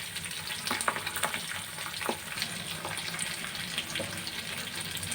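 Pabda fish frying one by one in a small pan of hot oil, giving a soft, continuous sizzle with occasional crackles and small pops, fairly quiet and close, with no talking.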